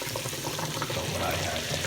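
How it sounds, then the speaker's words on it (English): Lemon juice pouring into a pan of shrimp: a steady, close liquid splash and sizzle that holds for about two seconds with no voice over it. "now we're going to add our lemon juice"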